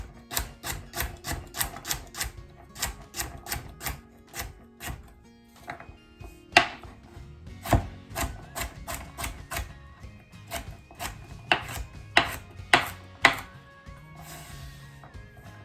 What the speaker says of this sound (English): what I'm gonna do is I'm gonna chop up the veg